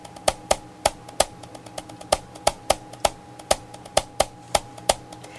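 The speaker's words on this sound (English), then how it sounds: "Help Dora clap along to Boots's bongos." Boots's bongos are struck in crisp, evenly spaced taps mixed with claps, a regular rhythm of sharp hits that stays close and fairly quiet, with no speech.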